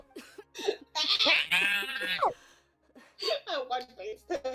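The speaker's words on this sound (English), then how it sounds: "as soon as I said that, she's like coughing" A woman character in the Genshin Impact Archon Quest coughing in a story scene, several harsh bursts mixed with strained voiced sounds, close and loud, with pauses between fits.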